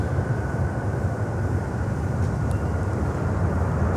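Steady broadband roar of an Alaska Airlines jet on approach to runway 12, a constant, fairly loud rumble with no voices over it.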